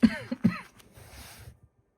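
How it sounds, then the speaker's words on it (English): A few sharp, close coughs in quick succession, followed by a short raspy trailing breath. "I'm like over here coughing."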